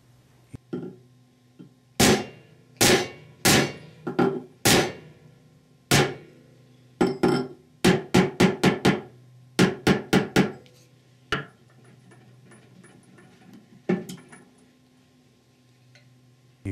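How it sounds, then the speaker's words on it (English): A hammer strikes a punch to drive a bore plug into a Ford E4OD / 4R100 transmission case: sharp metallic taps in clustered bursts, some in quick runs of four or five, close and clear with quiet gaps between. "Use a punch or other suitable tool and hammer in order to drive the plug about 50 thousandths of an inch below the edge of the bore."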